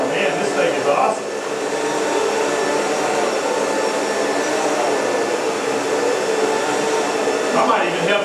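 A vacuum cleaner runs during a sales demonstration, a loud, close, steady whirring drone that holds for several seconds, with faint voices near the start and end.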